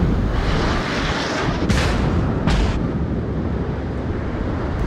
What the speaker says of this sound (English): Everyone is shooting at him because he's the only target.